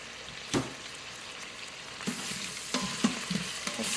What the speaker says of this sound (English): Just cooking up the sausage now.